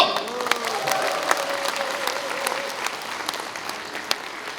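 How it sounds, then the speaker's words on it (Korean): Applause fills a hall at a book launch event in Wonju, a dense crowd clapping continuously with a few voices mixed in, steady and moderately loud throughout. "박수 한번 주십시오"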